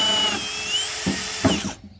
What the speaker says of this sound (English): I'll put it back in drill mode.